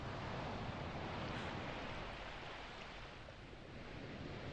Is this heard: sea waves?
yes